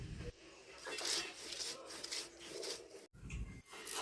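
Onion, green chili and cumin are ground together into a spice paste, with steady, close rasping strokes of grinding that rub back and forth with brief pauses.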